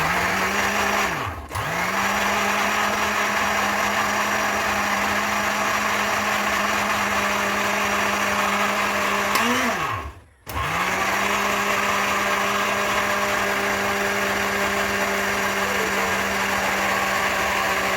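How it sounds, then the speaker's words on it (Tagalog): An electric blender blending milk whirs steadily at high speed, close and loud, briefly dipping and winding back up twice as it is switched off and on. "i-blend na natin siya, lagyan natin siya ng milk"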